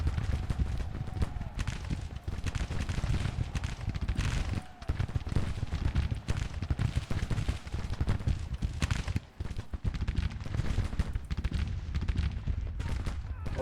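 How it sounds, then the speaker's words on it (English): Dense, crackling gunfire in a Grand Tactician Civil War video game battle, with continuous volleys and scattered sharp shots running the whole length at a steady, busy level. "I guess somebody was shooting at us."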